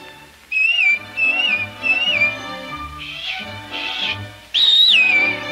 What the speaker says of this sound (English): you know, just whistle. Like this.